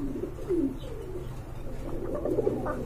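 Red Rajgolla pigeons coo in a low, repeated rolling call, steady and fairly close across the whole stretch, with a few faint higher chirps and no talking.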